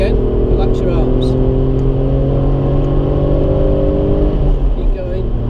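An Alfa Romeo Brera on the Anglesey race circuit holds a loud, steady engine drone with rising harmonics as it accelerates, close and continuous, easing slightly near the end.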